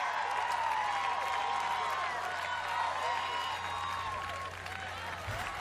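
A large Houston crowd at an American Ninja Warrior qualifier cheers and applauds throughout, a broad continuous roar with an excited commentator talking over it.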